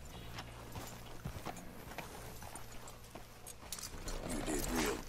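Horse hooves clip-clop in Red Dead Redemption 2 as riders go after the thoroughbreds at Braithwaite Stallions, a steady, fairly faint hoofbeat rhythm over a low hum and other game sounds.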